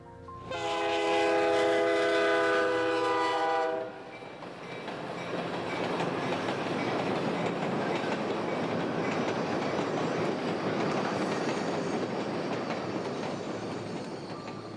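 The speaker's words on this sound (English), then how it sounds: "the ocean train runs north to Matapedia" The Ocean passenger train passes up close: a loud horn blast sounds for several seconds, then wheels roll over the rails with a steady rumbling clatter that slowly fades.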